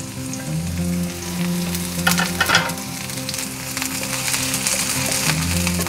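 Pirandai (adamant creeper) frying in oil in a pan for chutney, a steady close sizzle with a brief burst of louder crackling and spoon clatter midway, under a low hum.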